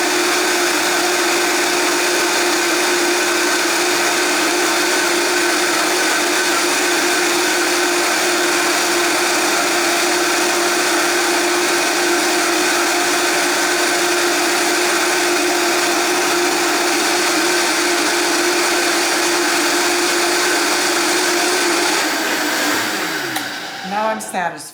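A blender whirs loud and steady for over twenty seconds, mixing almond-poppy seed cake batter, then cuts off with a brief sputter at the end; no voices over it.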